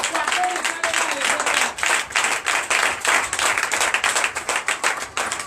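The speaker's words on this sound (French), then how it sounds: "Je vous demande d'applaudir très fort ce matin" A church congregation at a Sunday service in Comè, Benin claps loudly and steadily, a dense, sustained round of applause filling the whole stretch with only slight dips in intensity.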